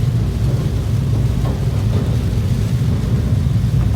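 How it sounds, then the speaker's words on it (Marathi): Heavy rain pouring, a loud, dense, steady low roar that continues without a break, likely heard from inside a vehicle. "मुसळधार पाऊस,"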